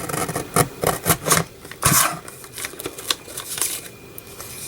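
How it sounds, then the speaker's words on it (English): A small hand cutter rasps and snips along paper edges in quick irregular strokes, crisp scraping bursts with short pauses between, close and fairly quiet, no speech. "I'm just going to cut my little edges off"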